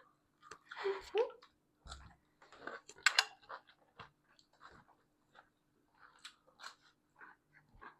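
Chicken biryani eaten during an eating challenge, close irregular chewing and mouth sounds with small clinks, plus brief bits of voice in between.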